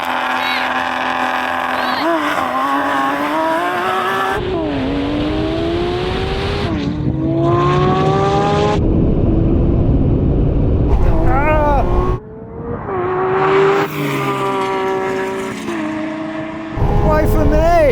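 A Lamborghini SVJ, McLaren 720 and Porsche 911 Turbo S launch in a drag race, engines roaring loud and close, revs climbing in rising sweeps through gear changes, then receding and returning as the cars pass.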